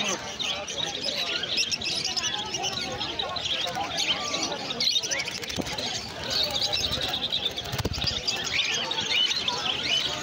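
Many small exotic birds chirp and tweet all through a busy street bird market on Galiff Street, with pigeon or dove coos mixed in. The calls are dense and overlapping, with people talking under them.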